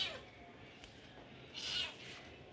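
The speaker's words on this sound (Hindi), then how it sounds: "तो ये देखिए बिल्लियाँ" Cat meows sound over a low background hum, with a brighter cry near the end, fairly close and moderately loud.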